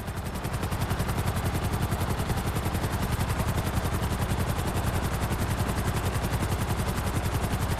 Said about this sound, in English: I'm bringing the chopper back around